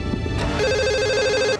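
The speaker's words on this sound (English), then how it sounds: "The phone rang." A telephone rings with a steady electronic warbling tone, loud and close, over a low background hum, in a hurricane hunters' early-morning call scene.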